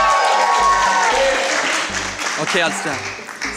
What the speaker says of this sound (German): Einmal bitte Applaus für Mini-Leuting.